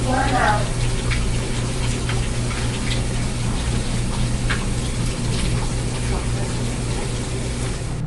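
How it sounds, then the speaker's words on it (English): Water gushing steadily as a washing machine fills, a continuous rushing hiss under a low hum, with a voice briefly audible at the start. "You also want to start the washing machine"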